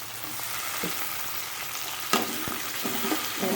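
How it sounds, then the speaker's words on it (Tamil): Onions sizzling in a pan for Chettinad-style mango mandi, a soft continuous fry with a few scraping stirs and a sharper clatter partway through, no talking. "இந்த வெங்காயம் நல்லா பொரியட்டும்"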